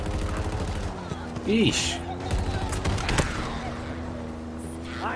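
Bursts of automatic gunfire and blasts from the Halo Infinite video game rattle through the scene, loud and rapid, with a voice briefly speaking over the clatter and game effects.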